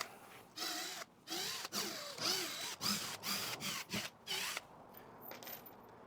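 A power drill backs old 1.25 to 1.5 inch wood screws out of a rotted boat hatch, in short whirring bursts that rise and fall in pitch, separated by brief pauses, faint and close.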